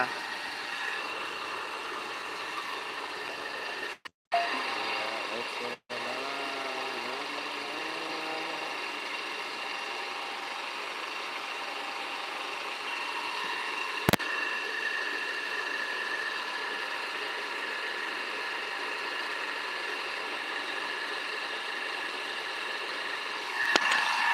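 A homemade spinning "guruni" machine runs with a steady, droning mechanical hum, two brief dropouts early on and a sharp click near the middle, continuing unbroken to the end.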